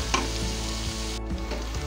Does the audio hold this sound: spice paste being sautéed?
yes